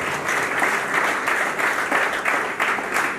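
Children clap together for a guest at a welfare organization ceremony, a steady patter of many small hands that swells in soft rhythmic waves.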